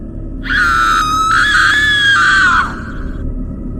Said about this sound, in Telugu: గట్టిగా ఒక అమ్మాయి అరుపు వినిపించింది.